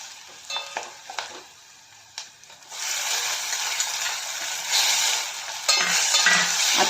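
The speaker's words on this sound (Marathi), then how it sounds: "आता टोमॅटोला चांगला आपल्याला 2-4 मिनिट चांगलं परतून घ्यायचं आहे सॉफ्ट होईपर्यंत" Tomatoes sauté in a pan with fresh garlic-ginger paste, starting with a few spoon scrapes and clinks, then a steady loud sizzle and frying hiss that swells and continues, with no voices.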